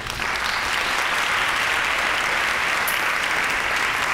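An audience at a high school senior awards night claps for National Merit scholars, a steady, fairly loud roll of applause that holds even throughout without any talking.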